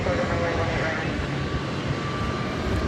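An airliner arriving from Phoenix at DFW Airport at night, a steady broad engine roar filling the background throughout, with a voice talking over it.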